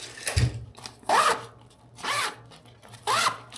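Zipper on a Gregory Zulu 30 backpack pulled in three quick, smooth strokes, each a short rasping zip spaced about a second apart, close and fairly loud with a brief thump before the first.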